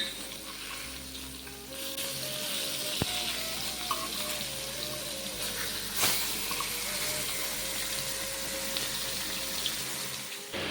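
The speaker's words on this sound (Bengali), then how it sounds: "মাছটা ভেজে দিচ্ছি" Fish frying in a pan at home gives a steady, close sizzling hiss throughout, with a faint tonal whine and a couple of sharp clicks partway through.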